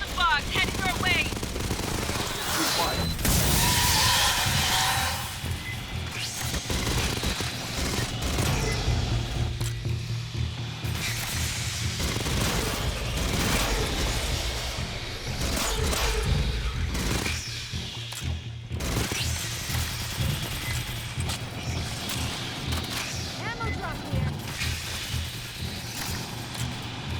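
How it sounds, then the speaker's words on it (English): Sentry guns blaze in the sci-fi shooter Aliens: Fireteam Elite, loud sustained automatic fire layered with mechanical clatter and crashing impacts, nearly continuous across the whole stretch with only brief lulls. "Get those sentries back up."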